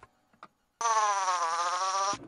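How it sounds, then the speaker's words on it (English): A fly buzzes in the PC hidden-object game I Spy: Spooky Mansion, one steady, loud, nasal drone lasting just over a second after a couple of faint clicks, then stopping abruptly. "A fly in a cup."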